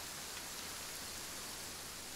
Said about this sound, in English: can you turn this rain off, please?